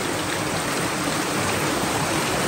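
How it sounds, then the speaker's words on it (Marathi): A strong stream of water rushes steadily behind a house in rural Kokan, a loud, continuous broadband roar of flowing water close by, with no pauses and no talking. "पाणी किती येते हे बघा. पाण्याचा जोर वाढलाय ना."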